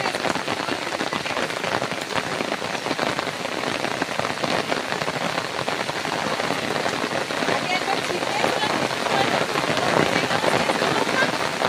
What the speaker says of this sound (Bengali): ওরে জোরে বৃষ্টি আসতে।